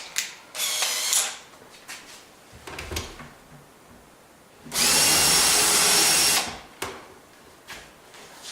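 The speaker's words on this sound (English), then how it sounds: "Drill my through hole, and then I'll drill my 1/4 inch" A power drill whirs in short bursts, then one long loud sustained run as the bit bores a through hole in a wooden shelf, with clunks and handling noises between.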